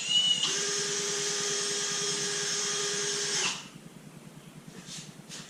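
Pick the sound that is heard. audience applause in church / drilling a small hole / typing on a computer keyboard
drilling a small hole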